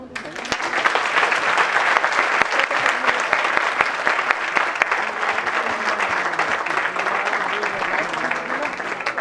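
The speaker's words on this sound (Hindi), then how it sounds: "फिर से सच्चाई से तालियां।" An audience applauds a children's stage play with dense, sustained clapping that fills the room evenly and loudly throughout, with faint crowd murmur beneath.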